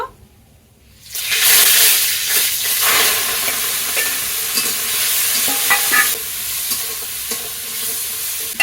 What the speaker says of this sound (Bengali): এবার আমি এতে চিংড়ি মাছগুলো ভেজে নেব